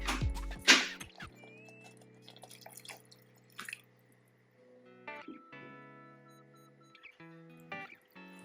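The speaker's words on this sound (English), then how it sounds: "I'm going to add a little water." Water is added to a pot of chili, a few splashy pours and drips close by, separated by quiet gaps in a kitchen.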